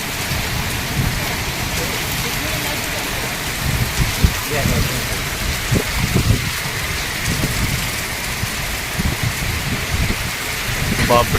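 Heavy rain pours with gusting wind, a steady dense roar broken by a few louder splashes and thuds, in an open area near a parked vehicle.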